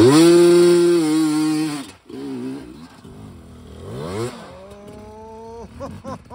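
A Suzuki Busa sport motorcycle revs hard in third gear on the Hells Gate trail at Moab, a loud close engine wail that climbs in pitch, cuts off, then returns in shorter rising revs.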